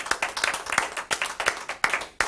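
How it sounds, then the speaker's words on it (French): Applause from a conference audience in honour of project partners and participants, a few hands clapping in a loose, uneven rhythm for just over two seconds, fairly close and with no talking. "je tiendrais quand même à faire une bonne main d'applaudissements aux différents partenaires et participants du projet"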